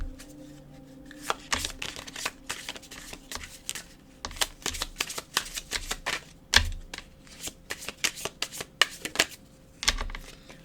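Tarot cards are shuffled up close in a rapid riffle of crisp, papery slaps and flicks, with brief pauses between bursts, all without talk.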